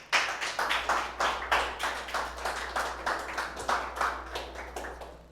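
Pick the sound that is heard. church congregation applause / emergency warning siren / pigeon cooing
church congregation applause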